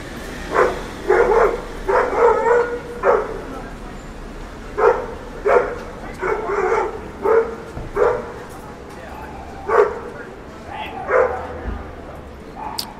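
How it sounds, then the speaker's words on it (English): A dog barks in short repeated bursts at a passing man on a scooter, several clustered yips and woofs spread across the span, moderately close over a steady background hum. "there was a dog that just tried to go after a guy on a scooter"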